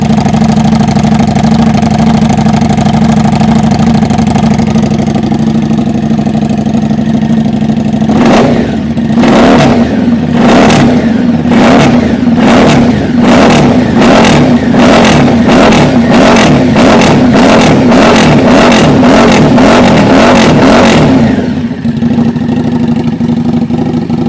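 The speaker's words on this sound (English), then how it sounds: "That's the sound of the new 750. Okay, Harley Davidson" A Harley-Davidson 750 motorcycle engine idles with a deep rumble, then revs hard in a rapid series of sharp bursts before settling back to idle.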